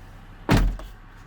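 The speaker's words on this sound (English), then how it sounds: "let's go ahead and shut the door" A 2024 Land Rover Defender door swings shut with a single solid, close thump and a short rattling tail, in a quiet parked setting.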